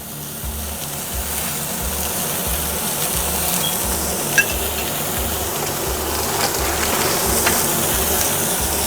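A filet steak sears in butter in a hot cast iron pan, giving a loud, continuous crackling sizzle throughout with a steady low rumble beneath and occasional sharper pops.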